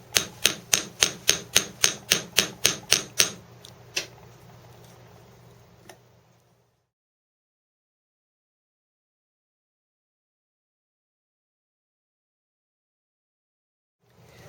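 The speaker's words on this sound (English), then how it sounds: "what you want to do is hammer the coils to harden them" Around a dozen sharp, evenly spaced metallic taps from a small fret hammer striking coiled wire for a lotus flower component, close and crisp, then a couple of isolated strikes before silence.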